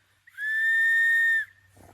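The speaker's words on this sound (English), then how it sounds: "is a lot louder, and the sound will travel an awful lot further." Loud emergency outdoor whistle blown once in a single sustained, piercing blast of about a second, clean and close, followed by faint handling noise.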